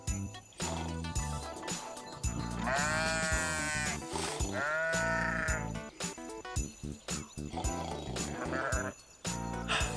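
Sheep bleat in a field, two long wavering cries standing out near the start and middle over a busy background with a few shorter calls later.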